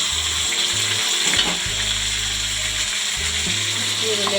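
Ground onion paste fries in hot oil, a dense, steady sizzle close up, with light scraping and stirring underneath.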